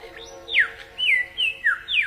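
Lyrebird singing a complex mimicked song: a rapid series of clear, sweeping whistled notes and chirps, some descending, heard close and alone.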